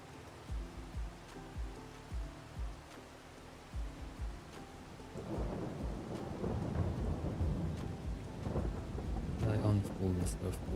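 Rain and thunder in Farming Simulator 22 on the Alma, Missouri map: deep, rolling thunder rumbles over a steady hiss of rainfall, the downpour swelling louder toward the end.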